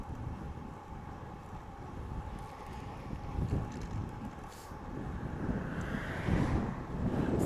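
Steady wind buffeting the microphone outdoors, a continuous low rumbling roar that swells slightly toward the end, with no talking.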